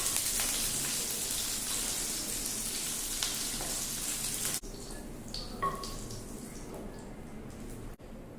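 Onion frying in hot oil in a kadhai, a steady close sizzle and crackle that drops quieter partway through and keeps on with faint spatters.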